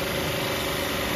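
A high-pressure washer with a 7.5 hp motor and ceramic plungers runs steadily at 200 bar, giving a constant, fairly quiet mechanical hum with an even high-pitched whine and no talk.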